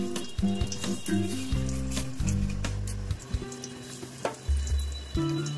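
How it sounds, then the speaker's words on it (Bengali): Potato pieces frying in hot oil, a steady close sizzle and crackle running beneath louder sustained tonal notes that come and go. "তেল গরম করতে দিয়ে দিয়েছি, এই আমার আলু ছেড়ে দিলাম"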